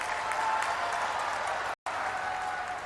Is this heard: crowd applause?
yes